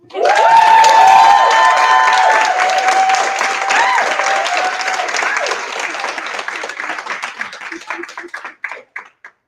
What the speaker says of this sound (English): just clap it up if you know Carol.